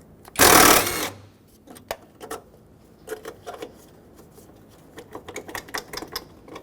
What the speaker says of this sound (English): Just reach down in with an extension and an 8mm socket.